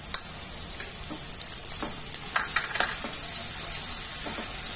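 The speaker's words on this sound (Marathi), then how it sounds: "आलं लसूण परतल्यानंतर त्यात कांदापातीचा कांदा घालून घ्यायचा आहे." Spring onion sautéing in oil with ginger and garlic, a steady soft sizzle with scattered clicks and scrapes of stirring, close and moderately quiet, no voices.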